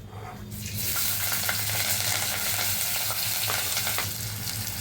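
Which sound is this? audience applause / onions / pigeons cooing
onions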